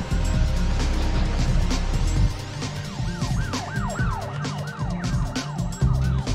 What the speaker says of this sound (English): Don't ask me why there's police cars during this boss fight.